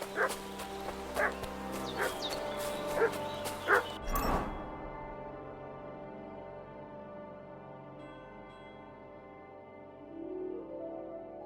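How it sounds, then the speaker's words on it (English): A dog in the video game Kingdom Come: Deliverance II barks repeatedly at close range, about six yips in quick succession, then falls quiet as faint ambient game sound and music carry on without talk. "What's that dog making such a fuss about?"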